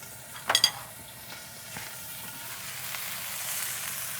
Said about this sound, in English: So we're going to add the onions.